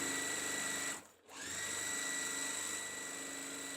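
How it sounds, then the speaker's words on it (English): A sewing machine stitches quilt flying geese pieces together with a steady close whir that stops briefly, then starts again and keeps running. "The next step is to sew this together."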